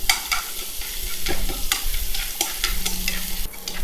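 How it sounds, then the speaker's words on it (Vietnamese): Close-up sizzling of minced shallots frying in hot oil, with crackles and the scrape of stirring at irregular intervals. "dầu đã nóng, chúng ta sẽ tiến hành cho hành tím đã băm này vào, chúng ta sẽ phi cho thơm"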